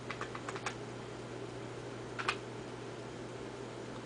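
Someone typing a website address on a computer keyboard: a quick run of close key clicks at the start, a pause, then a brief second cluster of keystrokes over a steady low hum, with no talk.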